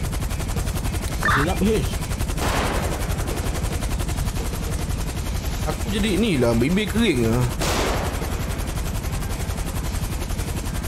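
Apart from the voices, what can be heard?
gunfire in the video game GTA 5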